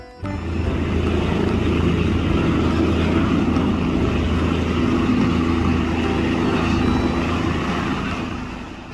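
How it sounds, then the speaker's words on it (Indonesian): Steady droning engine-like whir of a toy helicopter, continuous and fairly loud from start to finish, with low humming tones and no voices. "Helikopter."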